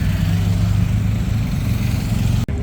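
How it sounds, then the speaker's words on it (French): Lamborghini Aventador with Capristo exhaust on a Monaco street, a loud deep engine rumble held steady nearby before cutting off abruptly. "Aventador avec les pots d'échappement Capristo."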